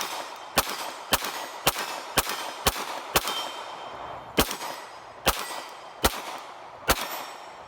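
A CZ P-07 pistol firing at the range, about a dozen sharp, loud shots in a steady rhythm roughly half a second to a second apart, each ringing briefly, with no talking.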